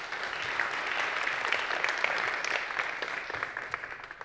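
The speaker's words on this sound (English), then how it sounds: "Another round of applause." A conference audience gives a sustained round of applause as a speaker comes on stage at a talk on democracy, tech and media, many hands clapping evenly and thinning slightly toward the end.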